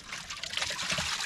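Net dip liquid poured over the wire mesh of a catfish wire net, a steady close trickle and splatter of liquid running through the mesh, with no talk.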